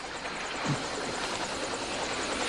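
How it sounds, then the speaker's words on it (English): An approaching helicopter's rotor thumps in a steady, rapid chop, loud and constant, with a brief low thud partway through. "it sounds like a helicopter"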